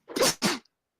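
A single sneeze close by, two quick bursts, then silence.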